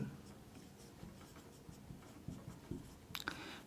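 Faint scratchy strokes of writing on a board during a maths class, soft and intermittent in a quiet room with no talking.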